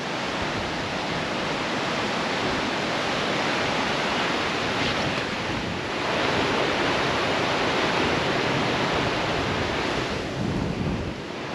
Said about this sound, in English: the noise of the water